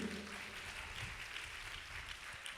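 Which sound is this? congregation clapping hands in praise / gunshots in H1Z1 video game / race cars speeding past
congregation clapping hands in praise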